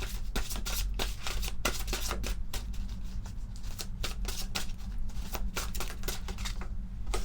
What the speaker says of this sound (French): On va prendre quelques cartes de l'oracle des archanges.